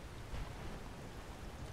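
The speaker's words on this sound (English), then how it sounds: "I can hear the thunder and see the flashes." Rain and thunder from a weather spell in the Skyrim video game make a steady, fairly faint wash of falling rain with a low rumble of thunder beneath it and no voices.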